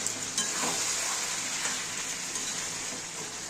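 Mutton sizzles in a pan while being stirred for a Bengali-style aloo mutton kosha, a soft steady frying hiss broken by a few faint scraping strokes, quiet and close with no talking.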